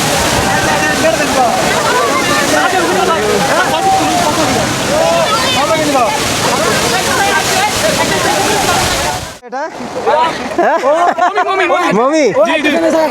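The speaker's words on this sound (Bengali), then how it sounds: "কত দূর উপর থেকে দেখুন পানি পড়তেছে" A hillside waterfall in the monsoon at Chandranath hill, Sitakunda, pours down in a loud, steady rushing roar, with people talking over it; the roar briefly drops away near the end.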